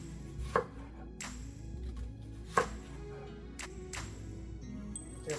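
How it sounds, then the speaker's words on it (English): A knife slices an onion into thin half-moon slices on a board, giving a few sharp, widely spaced cuts over a quiet background. "Now I'm going to slice my onion. I'm going to make thin slices"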